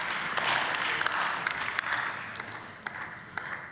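Clapping from members of the German Bundestag follows a speech, a moderate wash of many hands with a few sharper individual claps standing out, heard at some distance in the large chamber.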